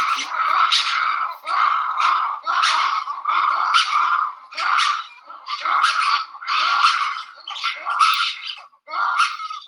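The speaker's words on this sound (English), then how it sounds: "So that's a roar shriek." Lemur roar-shriek calls played back from a recording: a rapid series of about ten loud, harsh, barking shrieks in quick rhythmic bursts, each a raspy yelping blast, with no talk over them.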